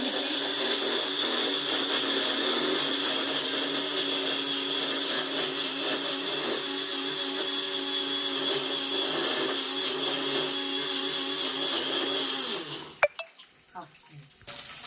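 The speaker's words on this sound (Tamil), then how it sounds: "புல்லட் மிக்சியில் போடுறேன்." A small bullet mixer whirs loudly and steadily for several seconds grinding masala paste, with a dense, buzzing roar, then cuts off, leaving a few clatters.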